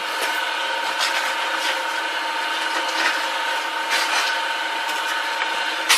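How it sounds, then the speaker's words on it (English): Continuous rasping hiss of sandpaper against a spinning all-wood pen on a lathe, steady and close with a faint tonal hum underneath, no voices. "we'll sand it a little bit first"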